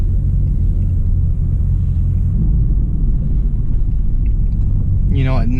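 A 2015 Chevrolet Camaro Z/28 cruising the Las Vegas Strip, its engine giving a steady, loud low rumble throughout, with a brief higher whine near the end.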